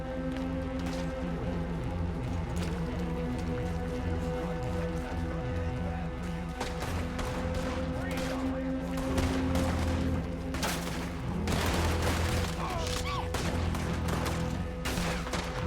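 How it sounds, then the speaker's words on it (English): Rapid Gatling gun fire in a Red Dead Redemption 2 battle, loud dense bursts of shots running nearly nonstop over game music, with shouting voices in the fight. "Get on that Gatling gun, Arthur!"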